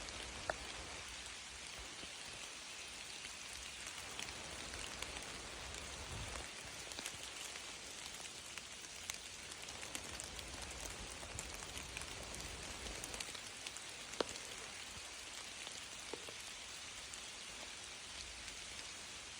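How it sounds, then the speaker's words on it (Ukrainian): Rain falling on a beech forest canopy, a dense, even patter of drops on leaves that continues unbroken throughout, with no voices. "Дощ йде, але верхушки не пробивають. Де-не-де капля пропадає, падає на землю."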